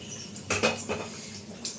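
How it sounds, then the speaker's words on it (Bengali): A metal lid comes off a pot of chicken curry, followed by a spoon scraping and stirring inside the pot. A few short clanks and scrapes sound close at hand, with no talk. "আমি চিকেনটা এবার একটু নাড়া দিয়ে দিই, নইলে নিচে লেগে যাবে। তো ঢাকাটা তুলে নিই প্রথমে।"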